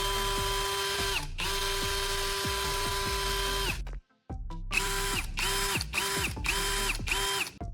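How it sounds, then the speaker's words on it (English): A cordless drill with a fresh replacement battery whirs steadily at close range, running in long bursts with a brief stop, then short repeated pulses of spin-up and slow-down. "After installing another battery, the drill works normally again."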